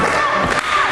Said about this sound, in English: Whoa, listen to this crowd.